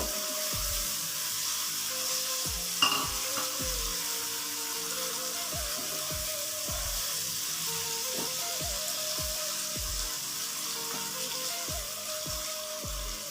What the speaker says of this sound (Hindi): इसमें जो सबसे पहले चीज़ जाएगी वो है शिमला मिर्च। इसको हम एक दफ़ा इस तरह भून लेंगे।